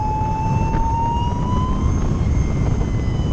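A Lightning Strike electric sportbike's motor and reduction gear give off a steady high whine that slowly rises in pitch over loud, constant wind and road rush during a ride.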